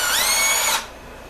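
A power drill whines steadily as it bores holes for guitar string trees on a Fender-style neck, loud and close, cutting off abruptly after about three quarters of a second to leave faint room hiss.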